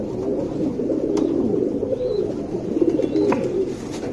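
A pair of two-year-old Sabja pigeons, a male and a Regdar female, coo nearby with soft, repeated low throaty rolls, while faint chirps sound in the background.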